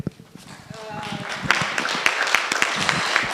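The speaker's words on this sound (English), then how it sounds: "That one deserves a better clap." Audience applause at the close of a talk during a strategic plan validation workshop, rising after a quiet start into steady, dense clapping that continues to the end, with occasional louder claps standing out.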